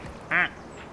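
A single short duck quack, nasal and fairly loud, standing alone against quiet background noise.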